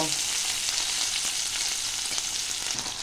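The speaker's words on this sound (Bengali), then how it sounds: "পেঁয়াজ আর টমেটোটা আমি ভালো করে ভেজে নেব" Chopped onion and tomato frying in a pan give a constant, close hiss of sizzling oil with faint crackles, steady and unbroken for the whole short stretch.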